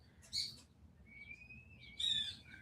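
Birds chirping outdoors, two bright sharp bursts of calls with a thin whistled note between them, fairly faint against a quiet low rumble of background.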